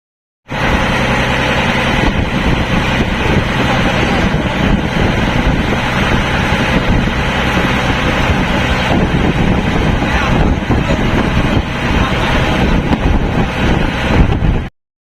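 A boat departing on Chilika Lake near Barkul, its engine giving a loud, steady drone mixed with rushing wind across the microphone for the whole stretch.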